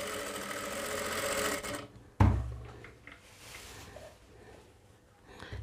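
Sewing machine stitching a fall onto a saree, whirring steadily and close for about two seconds before stopping with a clunk, followed by quieter handling of cloth.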